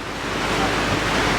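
Rain-swollen waterfalls in New Zealand pour in a steady, broadband rush, with no voices heard.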